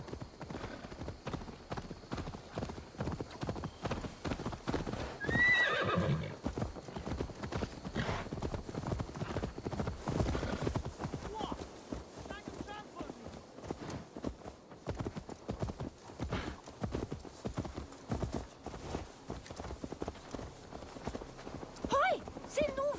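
Hooves clip-clop in a steady, busy rhythm on a hard surface in the video game Assassin's Creed Valhalla, with voices talking and occasional faint whinnies.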